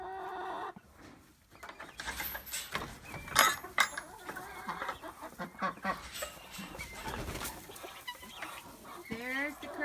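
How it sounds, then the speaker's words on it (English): Chickens clucking and squawking in an overcrowded coop shared with guinea fowl and ducks during a winter storm, a busy, uneven chorus of bird calls with scattered louder bursts close by. "There's the craziness going on in the chicken coop."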